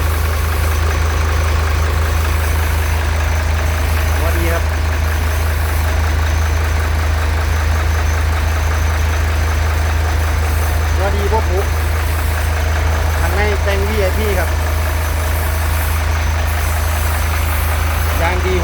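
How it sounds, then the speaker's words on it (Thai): A dump truck's 175 five-cylinder engine idles steadily with a deep, constant low rumble throughout, while faint talk and clatter sit in the background. "วันนี้เครื่อง ร้อยเจ็ดห้าเครื่องหาสูบครับตัวนี้ เครื่องหาสูบ"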